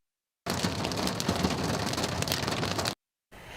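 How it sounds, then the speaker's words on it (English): Dense, steady clatter of large hailstones, some ping-pong-ball sized, pounding down during a thunderstorm, loud and continuous for a couple of seconds before cutting off abruptly, then resuming faintly. "The other striking sound, large damaging hail, some the size of ping pong balls."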